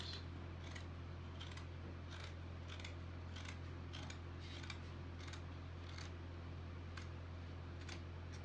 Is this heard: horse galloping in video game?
no